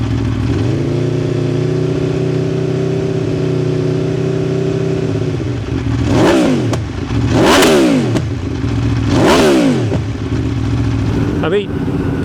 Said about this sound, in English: I've gone for the Akrapovic exhaust, and that's in this lovely black carbon finish. It sounds incredible.